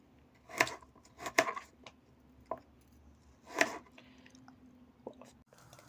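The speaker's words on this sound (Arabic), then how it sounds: "هلا رح اقطعهم ناعم. قطعوهم ناعم لانه عندكم البازيليا ناعمة" Knife chopping carrots finely on a board for a rice and peas dish, a few sharp crisp cuts spaced irregularly, close and clear with quiet gaps between.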